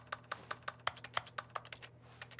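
Crisp keyboard key clicks from The Stanley Parable video game ring out in a steady stream of a dozen or so presses, close and distinct over a faint constant hum.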